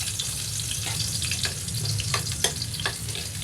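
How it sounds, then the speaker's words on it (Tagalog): Chopped garlic sizzles in hot cooking oil at the start of a Filipino sauté for mung beans with sardines, a steady close frying hiss with scattered crackles and pops and no talking. "Mainit ang ating mantika. Una natin ilalagay mga idol ay ating bawang."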